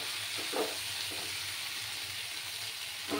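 Water and two slit green chillies go into a sizzling spice paste for a paneer and cauliflower curry, producing a continuous quiet frying hiss with a few faint stirring knocks.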